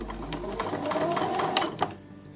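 A sewing machine stitches across a quilt block in a fast, even rattling run of needle strokes, close by, then stops abruptly near the end.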